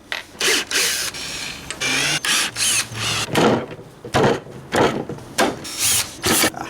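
Power drill backing square drive screws out of a wooden chair leg assembly, a series of short whirring bursts with brief pauses between them, close and fairly loud, no talking.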